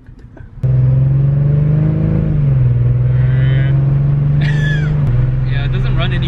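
A Mercedes-Benz C300 W204 engine idles and runs rough, with a steady low drone and a slight rise and fall in pitch. The sound is close and continuous, and faint brief chirps and squeaks can be heard over it.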